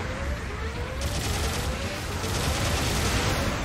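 Sustained, dense gunfire in a video game, a continuous loud roar of rapid shots with no break, steady and close for the whole stretch.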